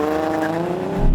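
A Nissan Z with a competition clutch revs hard, its engine note climbing steadily and loud, then surging with a low thump as the clutch is dumped for a launch.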